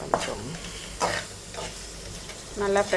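Noodles fry with masala powder in a pan, with short bursts of sizzling and stirring, and a brief voice near the end.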